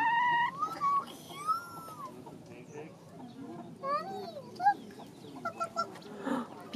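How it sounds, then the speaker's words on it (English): A white chicken clucks and squawks in short, scattered bursts at a petting zoo during a Halloween event, close by and mixed with people chatting nearby. "Oh, that's a beautiful chicken."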